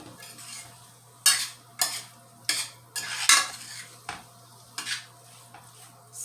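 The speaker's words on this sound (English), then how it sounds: "Since mine was already cooked, just sauteing with a little bit of oil is good" Beetroot leaves and carrots sauté in a little oil in a pan under a faint continuous sizzle, while a utensil scrapes and clatters against the pan in a series of close, sharp strokes.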